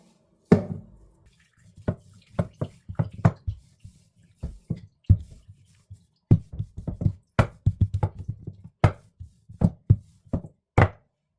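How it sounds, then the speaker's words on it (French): Star cookie dough of almond, cinnamon and egg white being mixed by hand in a bowl: a run of irregular, close knocks and dull taps with short pauses between them, no voices. "Je vais aller mélanger tout ça et ensuite il n'y aura plus qu'à étaler la pâte"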